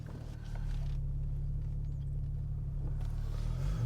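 A BMW G80 M3 with an S58 turbocharged inline-six idles nearby with a steady, deep exhaust rumble that holds evenly throughout.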